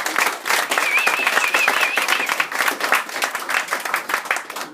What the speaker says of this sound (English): give Brad a big round of applause.